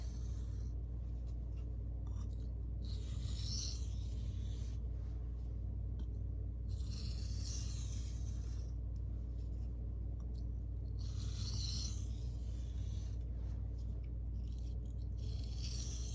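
A CPM 1V steel knife, the Seedy Knives Skinny Dude, sharpened freehand on a stone: repeated light rasping strokes in a slow even rhythm, close and fairly quiet over a steady low hum.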